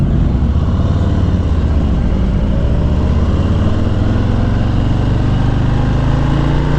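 A 2020 Harley-Davidson Low Rider S motorcycle rumbles loudly and steadily while riding, its deep V-twin drone continuous and close, with no talking over it.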